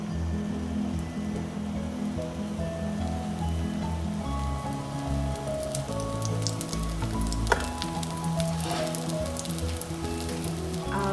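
Dosa batter spread on a hot pan sizzles steadily in oil over high heat, a close, continuous crackling hiss without any talking.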